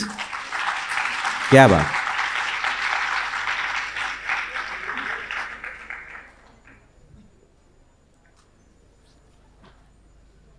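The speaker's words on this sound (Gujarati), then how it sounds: "એકવાર ખૂબ તાળીઓ પ્લીઝ." An audience at a Gujarati-language poetry gathering breaks into loud, sustained applause after a poem. A brief spoken exclamation comes early, and the clapping gradually fades into near silence by the halfway point.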